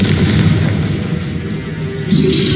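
A Confringo fire-blast spell in Hogwarts Legacy erupts as a loud, booming explosive roar that fills the whole short moment with rumbling, crackling energy and surges again near the end.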